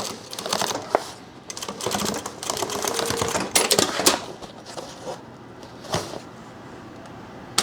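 A sewing machine puts an extra line of stitching into a handmade backpack, giving short, uneven bursts of clattering needle strokes with clicks and pauses between them.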